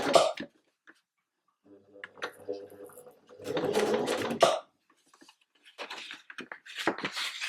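A sewing machine stitches through card in a short run of mechanical chatter, then a louder, denser burst, with a voice talking around it.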